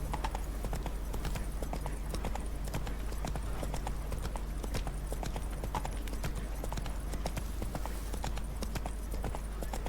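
Horse hooves clip-clopping at a walk through city streets in The Witcher 3, a steady, even stream of close hoof strikes on hard ground, with no talk.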